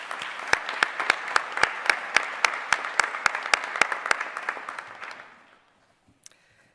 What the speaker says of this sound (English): I would appreciate if you give all of them a round of applause also.